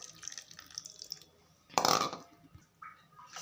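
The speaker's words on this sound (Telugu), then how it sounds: "కొంచెం చింతపండు వాటర్" Tamarind water pours briefly into a pressure cooker with a short splashing gush, surrounded by quieter kitchen clatter.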